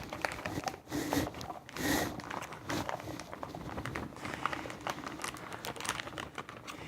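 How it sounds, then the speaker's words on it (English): Corn kernels from a plastic pack pour into a blender with a rustling, pattering cascade, rising in a couple of denser surges before settling into steadier trickling. "So now we pour them in the blender."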